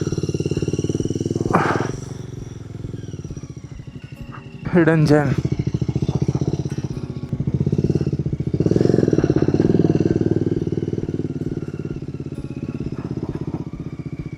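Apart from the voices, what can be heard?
motorcycle riding on a mountain trail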